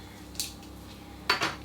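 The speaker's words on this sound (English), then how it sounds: "So beef goes into slow cooker." Beef going into a slow cooker for a rich ragu: a few short metallic clanks and scrapes of a utensil against the pot, close and sharp, with no talking.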